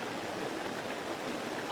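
A small waterfall at Padley with a modest flow gives a steady, close, broadband rush of falling water, continuous and even throughout, with no voices.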